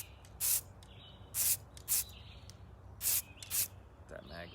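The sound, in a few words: spray painting an AR-15 rifle with camouflage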